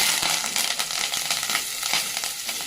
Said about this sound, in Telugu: కొన్ని పచ్చిమిరపకాయ ముక్కలు వేసి వేయించుకోవాలి బాగా